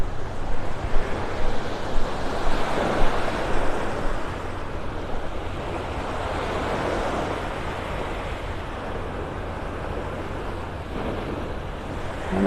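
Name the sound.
waves breaking over the sandbar at the beach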